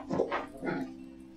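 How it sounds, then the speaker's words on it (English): A dog indoors gives two or three short, close yips, soft and quick, before a quiet room tone. "No barking."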